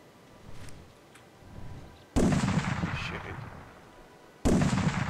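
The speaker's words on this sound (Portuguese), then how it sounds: "Vou dar um tiro nele" Two loud, sharp gunshots in the video game ARK about two seconds apart, each ringing out with a booming tail over low background noise.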